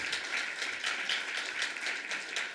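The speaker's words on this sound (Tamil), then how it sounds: "உங்கள் போதகருக்கு ஒரு பலத்த கைத்தட்டல் நீங்கள் கொடுக்கணும்." An audience in a church hall claps for the pastor at a New Year poetry celebration, a steady, fairly even patter of many hands with no voices.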